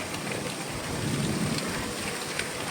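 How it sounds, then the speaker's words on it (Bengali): Steady rain pours down in a continuous hiss, with a low rumble underneath that may be distant thunder; no voices. "আর এখন তারপরে বৃষ্টি শুরু হয়েছে"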